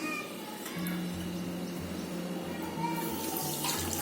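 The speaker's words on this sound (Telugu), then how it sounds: "వాటర్ పోసుకోవాలి." Water poured from a container into a bowl holding 300 grams of sugar to make syrup for instant gulab jamun, a steady close splashing and trickling pour running continuously and fairly loud throughout.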